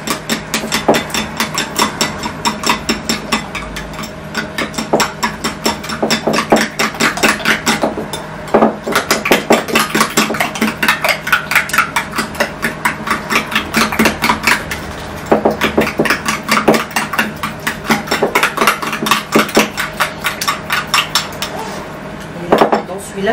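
Cake batter is mixed by hand in a bowl, fast rhythmic clinking of a utensil against the bowl repeating in bursts with brief pauses, close and fairly loud.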